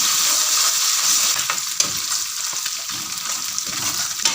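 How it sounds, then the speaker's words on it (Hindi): Steady crackling sizzle of garlic ginger paste frying in hot oil, with occasional stirring clatter, continuous and fairly loud throughout. "अब हम इसमें 1 टीस्पून लहसुन अदरक का पेस्ट डालेंगे और इसको फ्राई करेंगे।"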